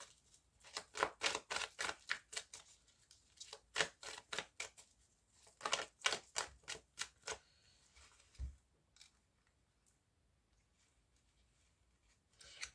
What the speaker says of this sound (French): je vais bien brasser et on va faire une coupe.